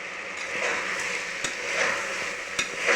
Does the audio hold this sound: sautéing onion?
yes